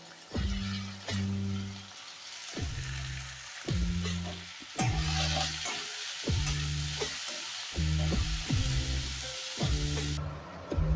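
Chopped onion frying in a pan gives a continuous sizzle with periodic stirring sounds, heard close up and mixed with background music.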